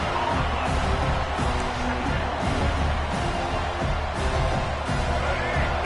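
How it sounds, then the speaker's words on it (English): Penn State football stadium crowd roaring steadily through a game, a dense continuous wall of cheering and noise with no clear individual voices, loud and sustained throughout. "This crowd ready to make its presence known."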